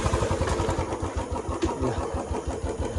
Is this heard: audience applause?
no